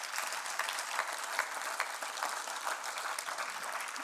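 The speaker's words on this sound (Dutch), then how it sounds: "een hartverwarmend applaus voor deze 3 pitchers" An audience in a hall gives three pitchers a steady round of applause, many hands clapping at moderate volume with a few louder individual claps, and no voices over it.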